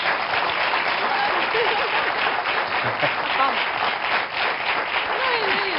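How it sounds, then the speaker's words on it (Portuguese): A studio audience on a Portuguese television health programme claps steadily and fairly loudly throughout, a continuous wash of applause with faint voices underneath. "Só por isso merecem uma salva de palmas."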